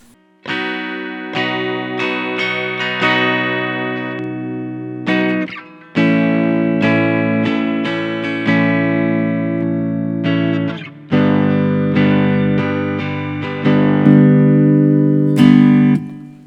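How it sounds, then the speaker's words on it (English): A cheap electric guitar runs through a simulated Fender Twin Reverb amp with a few pedals ahead of it, playing sustained clean chords in sections of several seconds, loud and close with ringing harmonics and no talk. "I'm using a Fender Twin Reverb for my simulated amplifier, and I got a few pedals ahead of it"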